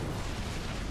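Explosions in the Oddworld: Soulstorm video game, a dense, continuous roaring blast that fills the whole moment at steady loudness with no gaps.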